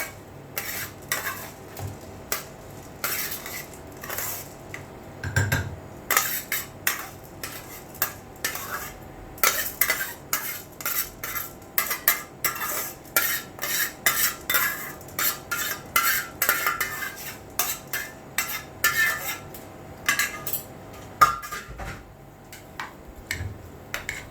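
Two cups of rice go into a cooking pot and get stirred with a utensil, producing a long run of close, rapid clinks and scrapes against the metal in an uneven rhythm, with a faint sizzle underneath.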